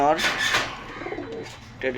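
Pigeons coo close by in a pigeon shop in Khulna, a few soft rolling coos with brief chirps over a quiet room.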